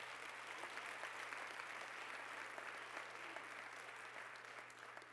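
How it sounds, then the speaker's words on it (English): Steady applause from a church congregation welcoming the host pastor and first lady at a governor's announcement, a dense, even patter of many hands lasting throughout and tapering slightly at the end, fairly distant and soft. "let's give them a round of applause."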